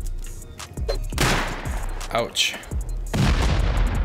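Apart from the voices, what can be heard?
turret firing and being destroyed in a video game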